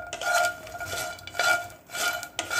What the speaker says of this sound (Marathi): आता आपण जे भाजलेले मखाणे होते त्या मसाल्यामध्ये घालणार आहे आपण